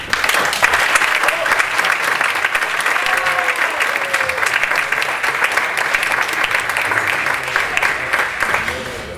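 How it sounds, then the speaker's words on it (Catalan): Warm, sustained applause from an awards-ceremony audience honouring a dubbing actor, dense clapping filling the room evenly throughout, with faint voices beneath. "Un aplaudiment, sisplau."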